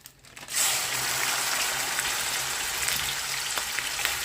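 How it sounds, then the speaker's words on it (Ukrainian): Minced meat hits hot oil in a frying pan with a sudden loud sizzle after a brief quiet start, then a dense, steady crackling fry continues close by. "Так, олійка розігрілась. Викидаємо туди фарш."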